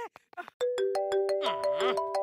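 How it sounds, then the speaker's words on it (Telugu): A melodic phone ringtone plays loudly with sustained electronic tones, after a few short clicks and taps at the start. "మళ్ళా ఫోన్ వచ్చిందే"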